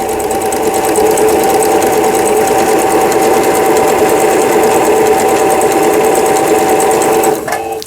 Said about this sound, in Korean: 이거 오버럭 스티치 바느질 잘 됐습니다